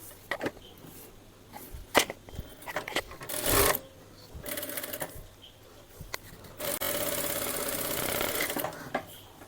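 A sewing machine single-stitching a frock seam runs in short whirring bursts with pauses between them, ending in a longer steady run, close and clear.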